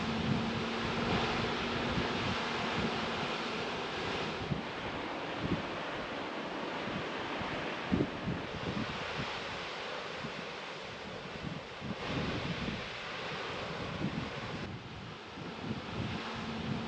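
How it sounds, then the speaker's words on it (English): A waterfall at Waratah, Tasmania, heard as a steady broadband roar of rushing water mixed with wind buffeting the microphone, continuous throughout with no voices. "Another stop was at Waratah to view the waterfall."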